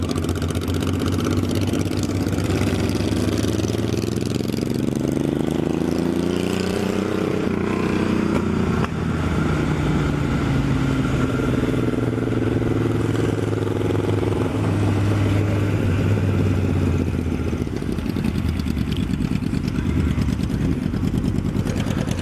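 Honda CB1100SFY X11 and Yamaha Fazer 1000 motorcycles ride along, their engines droning loud and steady throughout with rising and falling revs as they pass through gears.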